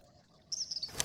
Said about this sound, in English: A cheerful little bird is sitting here singing.